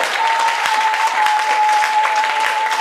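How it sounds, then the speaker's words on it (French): A church congregation at a Paris service applauds in a dense, steady wave of clapping that fills the whole stretch, with a thin sustained tone running beneath it. "Acclamez Jésus-Christ."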